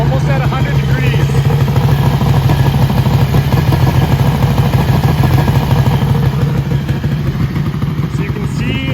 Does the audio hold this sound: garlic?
no